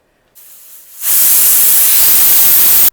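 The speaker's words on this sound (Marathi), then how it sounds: "कुकरला 3 शिट्ट्या झालेल्या आहेत।" Pressure cooker steaming over mutton kheema, a soft hiss that jumps into a loud, steady rushing blast of escaping steam, held without a break until it cuts off sharply.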